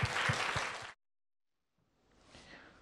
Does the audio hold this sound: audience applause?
yes